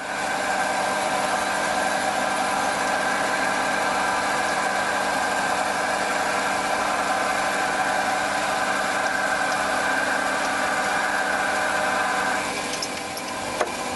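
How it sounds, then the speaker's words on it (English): A steady mechanical whine and hum of a mini lathe drilling out a hole, running continuously and close, then cutting off near the end. "So I'm just going to drill it out."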